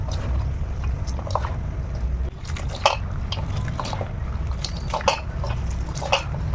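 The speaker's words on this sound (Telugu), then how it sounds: "ఇప్పుడు ఇది బాగా పిసకాలి," Soft, wet squelching and squishing from hands kneading salted ash gourd pieces to squeeze out water, irregular and close, with faint background hum and no talking.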